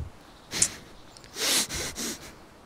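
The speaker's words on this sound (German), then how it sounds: "ist die am Schnaufen?" Heavy panting from a character in the video game DayZ: a few sharp, breathy snorts and gasps in uneven bursts, close and moderately loud against a quiet background.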